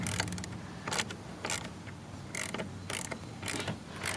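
A ratchet tightens the bracket of a 16-inch Ridgidhorse LED light bar against soft plastic, producing evenly spaced clicking bursts about every half second over a constant low hum, close and with no talk.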